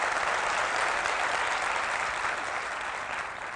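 Seminar audience applauding in a training hall, a dense, steady clatter of many hands clapping together that fades slightly toward the end, with no talk over it.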